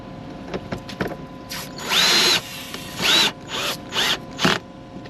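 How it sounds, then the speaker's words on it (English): A power drill drives new screws into a loose hinge, with several short whirring bursts, some rising in pitch, separated by brief pauses and ratcheting clicks, close and fairly loud. "I'm going to sink some new screws just to tighten it up"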